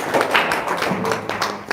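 Clapping hands in a lively indoor gathering, a brief dense patter of applause mixed with a few loud voices.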